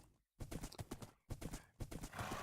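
Horse hooves clip-clopping in the Magic Farm 2 video game, a steady run of close, distinct hoofbeats in quick bursts, broken by two short silences.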